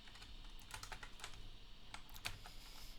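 Typing on a computer keyboard: quick, quiet key clicks in an irregular patter, with one sharper keystroke near the end, heard alone at low volume.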